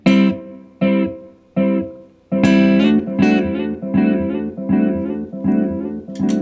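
Electric guitar through a Sonicake Levitate delay pedal plays repeated plucked chords with echoing repeats, notes stacking into a rhythmic, pulsing pattern that grows fuller midway.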